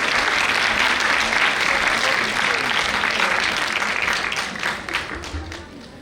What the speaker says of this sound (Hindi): तालियों से अगर स्वागत करेंगे तो